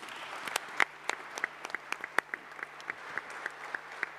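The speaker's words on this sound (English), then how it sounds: "a round of applause to our panelists" An audience applauds debate panelists after an economic panel discussion: sparse, distinct claps at a moderate distance, fairly quiet and irregular, with no talking over them.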